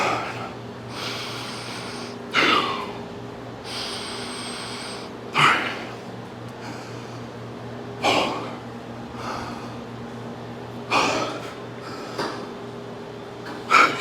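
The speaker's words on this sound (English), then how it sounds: "Now we're gonna go for 6 breaths." Deep, forceful breaths are taken during a back workout, with sharp, loud inhales and exhales roughly every one to three seconds, about eight in total, close to the listener.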